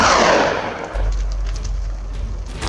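A loud gunshot bursts out at the start and fades into a low, rumbling echo, fired during a wild boar hunt in a forest.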